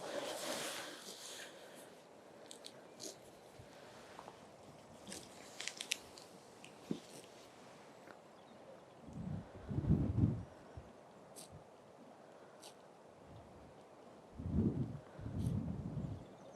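Oscar the horse munching food on a farm, slow, quiet chewing and crunching bites in soft bursts, close to the microphone with faint background noise.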